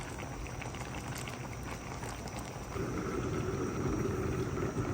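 Vegetables cooking in a covered pot of boiling water, giving a steady bubbling hiss that grows slightly fuller partway through, with no one talking.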